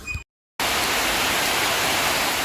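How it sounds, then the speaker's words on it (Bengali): Heavy rain pours at night, a dense steady roar of drops that fills the space, loud and close, after a brief moment of silence at the start. "এই তো বৃষ্টি হচ্ছে"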